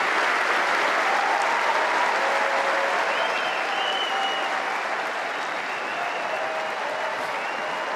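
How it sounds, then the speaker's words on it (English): Sustained, dense applause from the crowd on Wimbledon's centre court for Novak Djokovic after his on-court interview, a steady roar of clapping holding level throughout with no voices standing out. "taking the applause from the crowd and the royal box"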